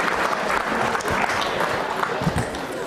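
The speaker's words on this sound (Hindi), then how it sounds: "कोमल के लिए तालियां जोरों से बजाइए" A studio audience at a televised Hindi quiz programme on cows claps loudly and continuously for a contestant, a dense, even roar of applause filling the whole stretch.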